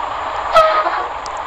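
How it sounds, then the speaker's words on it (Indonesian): Bus braking in the Bus Simulator Indonesia game: a single short hiss of released air cuts through a steady engine drone, with a thin tonal squeal trailing briefly after it. "Suara remnya gini ya."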